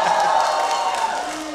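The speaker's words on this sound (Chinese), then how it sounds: "再欢呼一声就更有面子了" Audience at a Lunar New Year gala in Montreal cheering and applauding, a steady loud wash of crowd noise for under two seconds that eases slightly toward the end.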